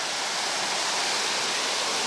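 River water flows steadily and loudly over rocks in Hokkaido, a dense unbroken rush like a small waterfall or stream, close by, with no voices.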